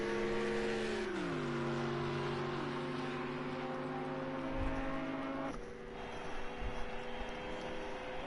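Race car engines in Project Cars 2 at Dubai Autodrome, a Ferrari GT3 among the cars, sustained high whining drone that drops in pitch with gear changes and shifts, loud and continuous.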